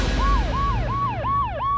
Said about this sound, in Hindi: थैंक गॉड एम्बुलेंस आ गई।